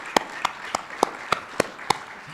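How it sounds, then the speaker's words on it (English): A few slow, isolated handclaps sound at a residency welcome event, about seven evenly spaced claps, moderately close and with no talk over them. "Round of applause for the gentleman who's not here"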